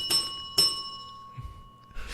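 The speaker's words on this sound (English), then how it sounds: "This is a new segment called John Plays Songs on the Bell" A hand bell rung twice in slow succession, each strike bright and ringing with a sustained metallic tone that decays slowly, followed by a faint rustle and a soft noise burst.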